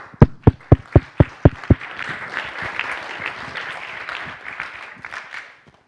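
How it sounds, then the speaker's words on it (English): Several loud, evenly spaced claps lead into a conference audience's steady applause that fades out after a few seconds. "I would ask again a round of applause for that"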